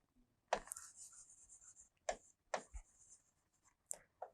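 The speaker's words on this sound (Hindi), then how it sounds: "थोड़ा और क्लियर लिख देते हैं इसको" Marker strokes on a board while a teacher writes out a verb form in an English grammar lesson: several separate squeaky scribbles with short pauses between them, close and fairly quiet, with no talking.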